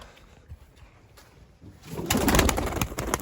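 A pigeon coos softly at a distance on a foggy, damp day, then a louder rustling, crackling noise swells through the second half.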